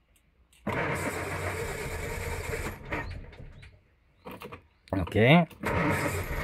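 A car engine cranking during a compression test: a long grinding crank that ends without catching, then a pause, a brief murmured word, and a second crank that catches and settles into a rough, close idle.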